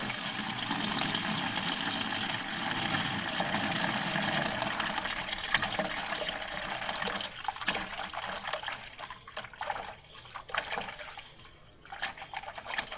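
Water pours from an abandoned homemade skidder in a loud, steady gush that thins into sputtering trickles and drips toward the end.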